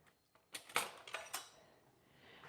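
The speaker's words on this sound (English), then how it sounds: "cut one slice to show you how it looks like" Knife slicing through a bacon-topped carnivore breakfast pie: a quick run of four or five close metallic scrapes and clinks against the dish, then quiet, with no talk.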